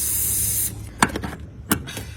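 Contact and tuner spray hisses in a steady close burst from an aerosol can while working on a water-damaged BMW, then cuts off, followed by a few light knocks and handling sounds.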